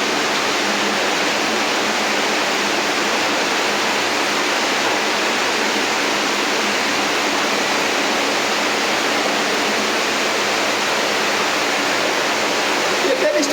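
Water rushing steadily through a penstock pipe down to a power house, a loud, continuous broadband roar that holds unbroken throughout with no distinct voices.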